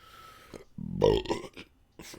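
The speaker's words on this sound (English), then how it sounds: "So you guys just heard that burp." A person burps loudly into a podcast microphone, one drawn-out guttural belch in the middle, between brief quiet sounds.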